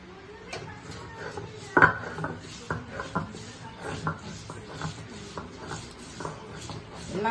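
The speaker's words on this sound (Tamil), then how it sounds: "அம்மியில் வச்சு நல்லா நைஸாக அரைச்சி எடுத்துப்போம்" A traditional ammi grinding stone is worked by hand to grind ingredients to a smooth paste, giving close, repeated scraping and knocking strokes in an uneven rhythm, with one sharper knock early on and no talk.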